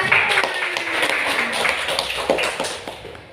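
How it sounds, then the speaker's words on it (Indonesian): A classroom of students applauds together, with brisk, slightly scattered clapping that is close and fairly loud and tapers off toward the end. "beri tepuk tangan untuk kita."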